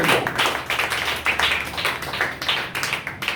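A church congregation claps together during Sunday worship, a rhythmic run of sharp, fairly close claps in rapid succession.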